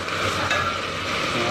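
Onion, ginger-garlic and tomato sauté in hot oil in a pan for a rajma and potol curry, giving a steady close sizzle with faint stirring throughout.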